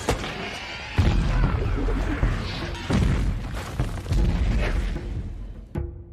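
Explosion scene in a monster war film: a cluster of loud booming blasts and crashing impacts in quick succession over about six seconds, followed by a brief quieter tail with a faint ringing tone.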